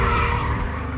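BMW car spinning round with its tyres squealing, a loud close-up screech over a revving engine that fills the whole second.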